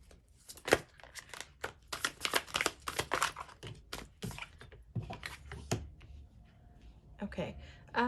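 Tarot cards being shuffled at close range, a rapid run of crisp, papery riffles and slaps that repeats in uneven bursts, with faint speech in the background.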